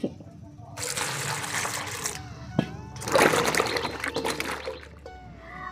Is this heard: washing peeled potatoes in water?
yes